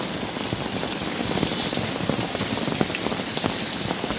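Heavy downpour in Mahuva: dense, continuous rain pattering hard on surfaces nearby, with scattered sharper drop impacts and no pauses.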